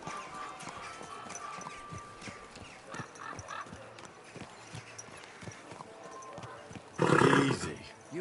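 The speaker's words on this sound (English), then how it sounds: "Watch out with that horse!" Horse hooves clip-clopping at a steady walk in the video game Kingdom Come: Deliverance, under scattered game speech, followed near the end by a loud, brief whinny.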